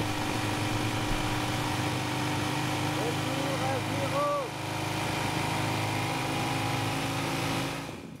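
A motorcycle with around 100,000 km on it runs steadily with a constant engine drone, loud and close throughout, while some faint tonal sounds rise briefly over it.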